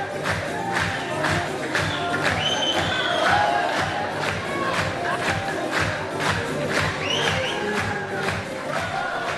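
A large studio audience at the Afghan Superstar television show in Afghanistan cheers, shouts and applauds continuously as the host takes the stage, a dense, loud roar of many voices and clapping with no pauses.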